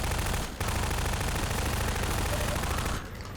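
Sustained rapid gunfire from a gunfight in the Half-Life 2 video game, loud and dense bursts of shots running nearly continuously with brief lulls.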